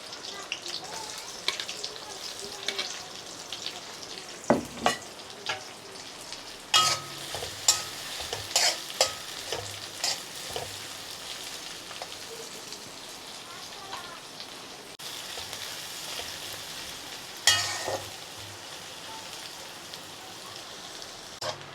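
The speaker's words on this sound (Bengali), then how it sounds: "এখন এই তেলে পেঁয়াজ কুচিগুলো ভেজে নেব।" Chopped onions frying softly in oil, a continuous low sizzle broken by occasional spoon scrapes and clatters against the pan.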